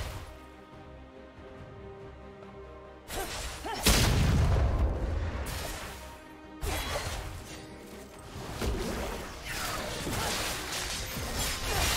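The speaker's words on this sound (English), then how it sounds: "Blue team's turret has been destroyed." A turret destroyed in League of Legends, a loud crashing boom about a third of the way in followed by debris and further impacts over game music, with other skill sounds after.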